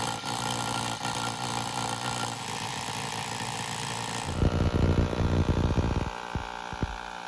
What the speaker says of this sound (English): I'm just going to try and hammer drill a little bit of it out, crack it